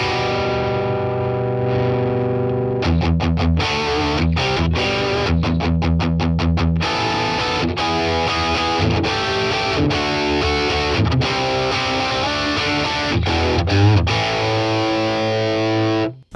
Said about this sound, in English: MS1959-1, which is a Marshall Plexi on the channel 1. This one sounds a little, it gets a lot of fuzz when you turn the gain up.